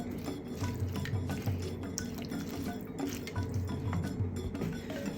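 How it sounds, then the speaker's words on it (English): A spoon stirs soy chunk curry in a pot, giving a steady close run of clinks and scrapes against the metal with wet, sloshing liquid throughout. "Just give it a good stir around like this."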